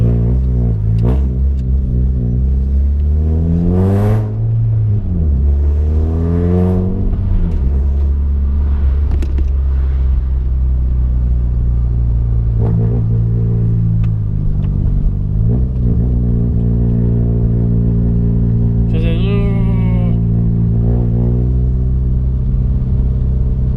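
A Peugeot 106 S16 engine, with an idle fault at the stepper motor, idles loud and close, then rises in several revs as the accelerator is pressed and settles back between them, with no talk.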